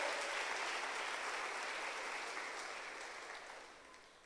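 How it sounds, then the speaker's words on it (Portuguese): A church congregation applauding during a sermon, broad steady clapping from a large crowd heard at a distance, fairly quiet and slowly fading toward the end. "Dê um aplauso a Deus por isso."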